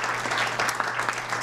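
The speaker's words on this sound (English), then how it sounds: "would you give them a round of applause?" Audience applauding event sponsors, a brief burst of dense clapping from a crowd in a hall, steady and moderately loud, alone without speech.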